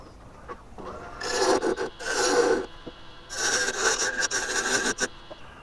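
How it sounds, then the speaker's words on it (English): A mortise is cut into the side of a wooden bowl in two bursts of rasping, scraping tool work on the wood, separated by a quiet pause and followed by short scratchy strokes, close and moderately loud, with no talking. "Now we're going to cut a mortise on this side"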